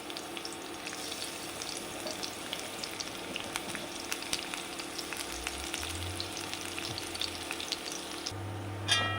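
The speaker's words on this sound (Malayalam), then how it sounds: "രണ്ട് ടീസ്പൂൺ നെയ്യ് ഒഴിച്ച് കൊടുത്തു. ഇനി അതിലേക്ക് പൊടി അരിഞ്ഞു വച്ചിരിക്കുന്ന വെളുത്തുള്ളി ഇട്ട് കൊടുക്കാം." Finely chopped garlic fries in two teaspoons of ghee, a steady, moderately quiet sizzle with scattered tiny crackles running the whole time, then a brief clatter at the end.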